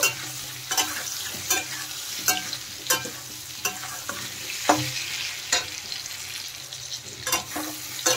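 Potato and pointed gourd frying in oil with salt and turmeric sizzle steadily while a spatula scrapes the pan in regular strokes about every second, close and clear, with no voices.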